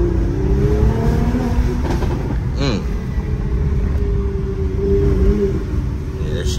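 A Corvette C8 running through a late-night drive, its engine rumbling loud and steady with a revving surge partway through, under a constant heavy drone.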